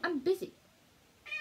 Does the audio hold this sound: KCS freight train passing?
no